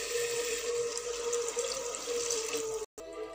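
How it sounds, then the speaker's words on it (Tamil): Water poured steadily onto basmati rice in a pot for chicken biryani, a close continuous splashing gush that briefly cuts out near the end. "நான் வந்து தேவையான அளவு தண்ணி ஊற்றிட்டேன்."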